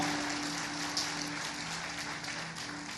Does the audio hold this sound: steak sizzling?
no